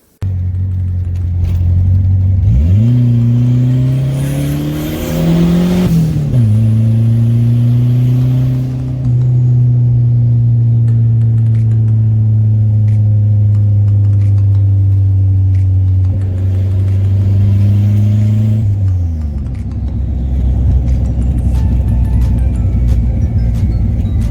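A turbocharged Ford SVO car engine revs up sharply, holds a steady loud drone, then rises again before dropping to a rough idle, close and continuous.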